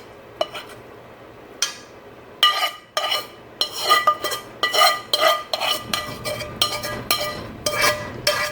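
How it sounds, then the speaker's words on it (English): Cooked cabbage scooped from a pan into a bowl: a series of close metal spoon scrapes and clinks against the pan, sparse at first and then coming in quick repeated strokes. "So my cabbage is done. Just gonna transfer it into this bowl."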